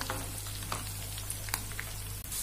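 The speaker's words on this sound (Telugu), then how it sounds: "ఈ వెల్లుల్లి కలర్ చేంజ్ అయ్యే వరకు ఫ్రై చేసుకుందామండి" Garlic and curry leaves fry in hot oil with a steady, close sizzle and occasional stirring clicks, no talking.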